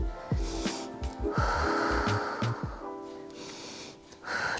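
Heavy, audible breaths in and out, with sharp inhales and snorting exhales repeating in an uneven rhythm, during a total-body strength workout for women over 50; close and fairly loud, with no talk.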